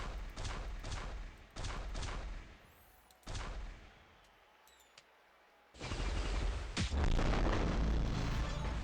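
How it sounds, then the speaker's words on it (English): Repeated deep booming blasts of blast gems exploding in a match-3 game: several sharp bursts in quick succession, a quieter gap, then a long, loud cluster of explosions. "we'll be able to hit the finisher turn 1 and blow up all the blast gems at the same time"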